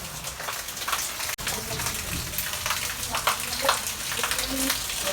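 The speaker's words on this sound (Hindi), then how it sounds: "काफ़ी देर बारिश हो रही है तेज़, अभी तक रुकी नहीं" Heavy, long-lasting rain pours down outdoors, a dense steady hiss of drops with splashes and water running, continuous throughout with no break in intensity.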